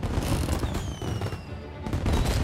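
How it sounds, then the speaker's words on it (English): Fireworks in the Mafia remake game crackle and pop in dense, continuous bursts, loud and close, with a brief lull before the bangs pick up again. "Kind of hard to see these guys through the fireworks going off."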